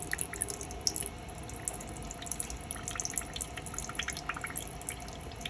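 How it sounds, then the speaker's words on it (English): Salty liquid drains from an opened can of garbanzo beans into a sink: a steady, quiet trickle with scattered bright drips throughout, close by and without talk. "I opened the can of garbanzo beans, and I am getting rid of that sodium water"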